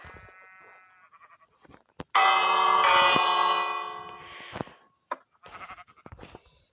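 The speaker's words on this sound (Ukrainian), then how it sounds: "Дивіться, тут якраз дзвони" A loud church bell in a video game peals once and rings on for a couple of seconds before fading, with softer scattered tones before and after.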